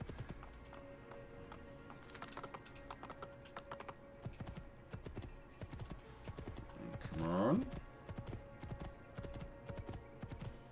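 Horse hooves clip-clop in the game Assassin's Creed II, a rapid clattering gallop heard up close, with a short whinny rising midway and the clatter carrying on after it.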